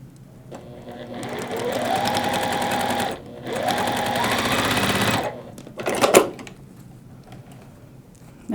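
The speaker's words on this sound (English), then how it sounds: "Lay it back down so I sew it right." Two long runs of a sewing machine stitching a cotton quilt block for a wreath pattern, a steady fast mechanical whir close to the microphone, then a brief clatter and a quiet pause.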